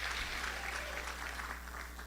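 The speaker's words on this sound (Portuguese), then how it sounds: "Dá um aplauso ao Senhor" A church congregation at a Torre Forte convention breaks into sustained applause, a dense, steady wash of many hands clapping at moderate distance, with a low hum underneath.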